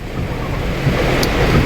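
Steady broadband roar of heavy rain mixed with gusting wind in Baguio City, loud and continuous throughout with no voices.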